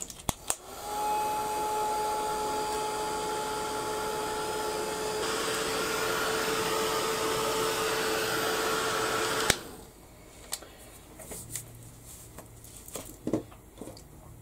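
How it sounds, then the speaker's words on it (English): A handheld heat gun blows hot air in a steady, loud whoosh for about nine seconds, then cuts off abruptly, leaving faint handling clicks and taps. "I'm just going to quickly give this a quick blast with the heat gun."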